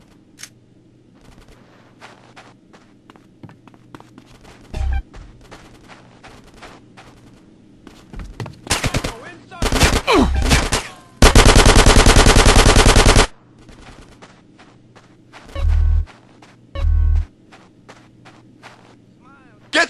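A police shootout in GTA San Andreas brings sharp bursts of automatic gunfire and single shots at irregular intervals, with one long sustained volley in the middle and quieter stretches of footsteps and shouting voices between.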